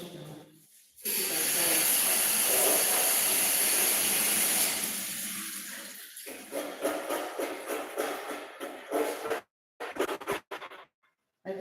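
Diced carrots rinsed under a running tap while making Nigerian meat pie, a loud steady gush of water for several seconds that eases off into intermittent splashing and brief stops.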